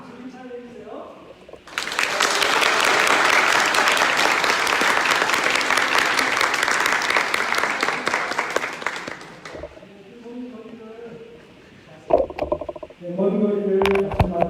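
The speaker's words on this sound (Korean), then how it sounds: "박수 좀 잘해주세요." A Korean congregation in Cape Town applauds at a church anniversary thanksgiving service, a burst of dense clapping lasting about eight seconds that starts abruptly and fades, with a speaker talking before and after.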